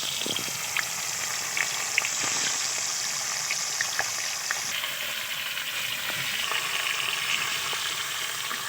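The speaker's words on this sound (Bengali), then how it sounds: "তেলটা গরম হয়ে গেছে, এক এক করে মাছগুলো তেলেতে ছেড়ে দেবো।" Silver carp pieces fry in hot mustard oil in a pan. The sizzle is steady and close, with scattered pops and crackles, and it continues on its own without any talk.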